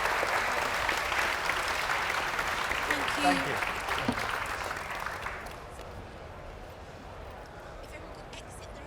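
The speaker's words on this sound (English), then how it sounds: "a big round of applause for the panel" A conference audience gives the panel a steady round of applause that tapers off after about five seconds, while a nearby voice speaks briefly over it.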